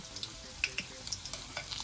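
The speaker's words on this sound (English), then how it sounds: "never leave stuff frying on the stove and walk away" Food sizzles and crackles steadily in a hot pan, with small pops and spatters, close and fairly quiet with no talking.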